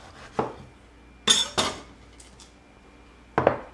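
Kitchen knife strikes through a lemon on a cutting board, giving a few sharp, separate taps and thuds close by, with short gaps between them.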